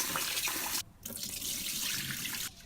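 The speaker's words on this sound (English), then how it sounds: "I wash the rice for 15 minutes." Tap water runs steadily over sweet rice being washed in a sink, a close, full splashing rush that drops out briefly twice and then resumes.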